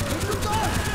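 Rapid automatic gunfire in Call of Duty Black Ops, a quick burst of evenly spaced loud shots under a busy game soundscape, with a voice talking over it.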